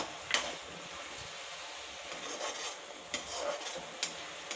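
Chopped onion and ginger-garlic paste are stirred in a pan for a potato and badi curry, giving quiet, irregular scraping and rubbing strokes with a few sharper clicks.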